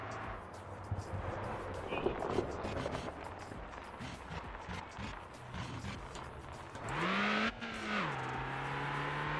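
A Roblox car engine hums and rumbles steadily, then revs up sharply and holds a higher pitch before easing off, with a synthetic, game-like quality.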